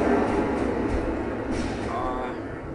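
Modern Warfare 2 video game audio booms through a surround sound system as a loud, dense, continuous rumbling wash of noise, steady throughout with no clear breaks.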